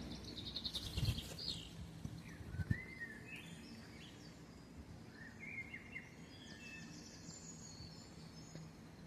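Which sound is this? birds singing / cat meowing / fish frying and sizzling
birds singing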